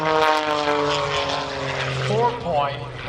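A propeller aerobatic airplane performs at an air show, its engine droning loudly with a rising and falling pitch as it maneuvers, while an announcer talks over the sound.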